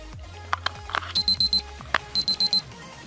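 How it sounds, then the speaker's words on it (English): A digital LCD meat thermometer with a built-in cook timer gives a few faint clicks as the battery goes in, then two quick sets of four high, clear beeps. "You'll get that notification that the battery's in."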